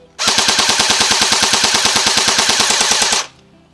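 An airsoft AKM rifle fires one continuous full-auto burst of about three seconds, a loud, even, rapid rattle of shots that cuts off sharply, with no talking.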